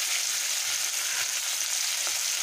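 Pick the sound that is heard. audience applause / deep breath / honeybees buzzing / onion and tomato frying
onion and tomato frying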